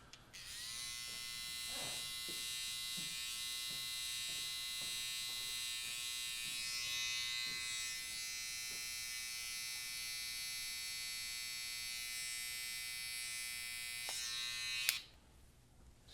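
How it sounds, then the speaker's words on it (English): A Babyliss FX Pro detailing trimmer etches lines into the hair of a modern undercut mullet. It produces a steady, close electric buzz that holds for about fifteen seconds with faint ticks from contact with the hair, then cuts off abruptly. "bring out your detailing tool. Today I'm using a Babyliss FX Pro"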